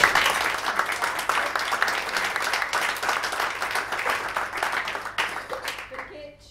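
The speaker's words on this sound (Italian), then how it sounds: "anzi facciamo proprio un applauso" Enthusiastic audience applause at an Italian literary event, starting loud and thinning gradually over several seconds as a voice starts speaking near the end.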